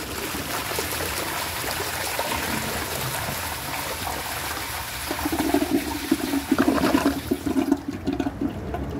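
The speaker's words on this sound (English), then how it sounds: "So let's give this a flush and see how it does on a high tank." A 1992 Eljer Preserver toilet fed by a high wall-mounted tank, with no siphon jet, flushes with a steady loud rush of water for several seconds. The rush swells midway as the bowl overflows, then tapers into a thinner trickle.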